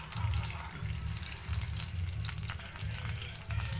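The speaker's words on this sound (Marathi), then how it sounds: "जिरे मोहरी आपली चांगली तडकत आहे" Cumin and mustard seeds tempering in hot oil in a kadhai, a dense continuous crackle and sizzle with rapid popping throughout, fairly close and without talk.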